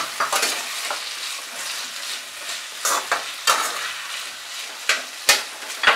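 Bell peppers and other vegetables stir-frying in a pan, a soft continuous sizzle broken by repeated sharp scraping and stirring strokes at an irregular pace, close up and without voices.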